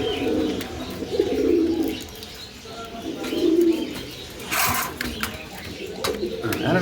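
Domestic pigeons coo in low, repeated rolling calls at close range, with a few chirps and a burst of fluttering, while someone talks over them.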